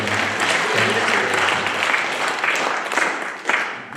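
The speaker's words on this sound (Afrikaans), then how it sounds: "Julle kan hom hande klap." Applause from a church congregation rises and fades as a steady wash of many hands clapping, fairly even through the moment and with no voices over it.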